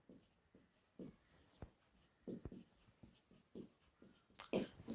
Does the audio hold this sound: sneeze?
no